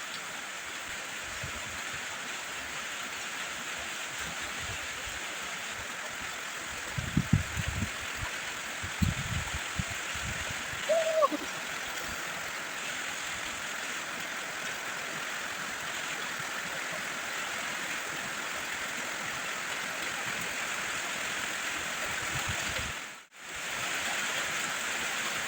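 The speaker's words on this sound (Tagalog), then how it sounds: "ilang araw na ngayon, palagi umuulan" Steady rain falls as a constant, even hiss, with a few faint knocks and bumps partway through and a brief dip near the end.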